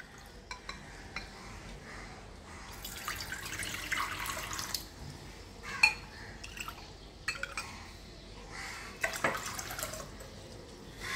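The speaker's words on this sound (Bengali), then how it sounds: "প্রথমে দেখুন আমি এই কাপটার এক কাপ চা করব, তার জন্য আমি দেড় কাপ জল নেব।" Water pours and splashes into a vessel, measured out as one and a half cups for a cup of tulsi and mulethi herbal tea, in a steady trickle with a few faint clinks, and no one speaks.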